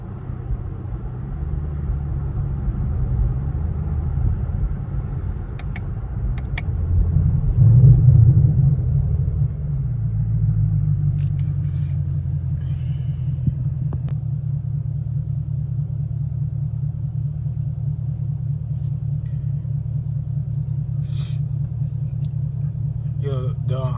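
A car with its muffler deleted idles at night with a loud, steady low rumble and a brief swell of revving partway through, heard close up throughout.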